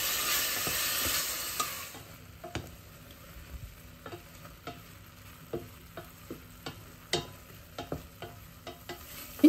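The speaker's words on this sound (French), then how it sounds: "une fois l'huile a bien chauffé, j'y ajoute le poulet et je fais cuire rapidement." Chicken pieces fry in hot oil in a pan for fried rice, a soft steady sizzle punctuated by repeated clacks and scrapes of stirring, close and alone.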